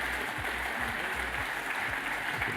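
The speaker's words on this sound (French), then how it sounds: "On peut les applaudir quand même." Audience applauding award recipients at a French regional football federation labels ceremony, a steady and fairly loud clapping that carries on without a break.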